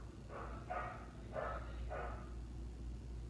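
A pet dog barks four times in a quick irregular series, somewhat distant and muffled indoors, over a low steady background hum.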